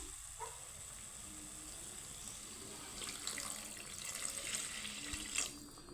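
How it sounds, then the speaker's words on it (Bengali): Boiled hot water poured into a pan of soya chunk curry over cooked-down spices, a steady tap-like hiss and splash running throughout and swelling louder near the end, with no talk. "এই পর্যায়ে আমি দিয়ে দিব জল তো আমি আগের থেকে গরম জল ফুটিয়ে রেখেছিলাম"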